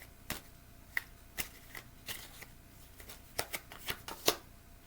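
Tarot cards shuffled by hand to draw a single card, heard as a run of sharp, close riffles and snapping flicks at an irregular pace, with one brighter slap near the end, in a quiet setting.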